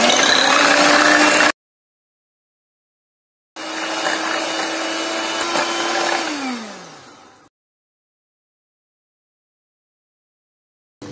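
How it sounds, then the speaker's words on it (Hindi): An electric hand beater whirs loudly through eggs and ghee for a teacake batter, running in two bursts, the longer one winding down in pitch as it stops, then a brief restart at the end. "इसको अच्छे से बीट कर लेते हैं।"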